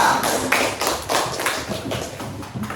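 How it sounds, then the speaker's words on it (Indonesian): A classroom of children clapping together for a classmate, a dense burst of quick hand claps sustained for a few seconds with uneven loudness, no talking over it. "Tepuk tangan untuk Azra"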